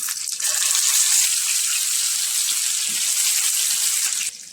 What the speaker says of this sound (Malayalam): ചൂടായ പാനിലേക്ക് ഓയിൽ ഒഴിച്ചെടുത്തിട്ടുണ്ട് നമ്മൾ വേവിച്ച് വെച്ചിരിക്കുന്ന ചിക്കൻ ഒന്ന് ഇതിൽ വെച്ച് ഫ്രൈ ചെയ്തെടുക്കും